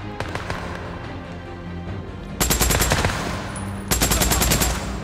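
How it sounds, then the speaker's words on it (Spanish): Days Gone game gunfire: sustained bursts of rapid automatic shots, loud and close, in two dense volleys after a quieter opening with scattered single shots and background game noise. "Veo que está disparando."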